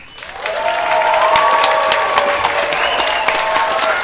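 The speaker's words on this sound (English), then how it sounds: "I appreciate the cheering" An audience at a mayoral candidates forum in a theater bursts into loud, sustained applause and cheering, with dense clapping and a few whoops rising above it throughout.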